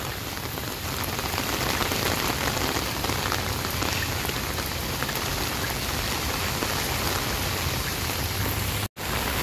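Steady, heavy rain pours over Luneta Park with no wind, a dense unbroken hiss of drops on surfaces that cuts out abruptly for a split second near the end.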